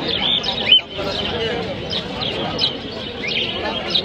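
Pigeons at a busy Uluberia pet market give repeated high chirps and calls under people talking nearby.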